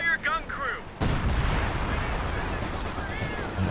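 Pack howitzer artillery fire in Company of Heroes 2 lands as a sudden booming blast followed by a rumbling, crackling barrage of gunfire and explosions, with a voice heard just before.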